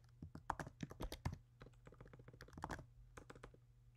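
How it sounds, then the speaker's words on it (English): Quiet, rapid typing on a computer keyboard in bursts of clicky keystrokes with short pauses, close by and faint. "I'm terrible at typing."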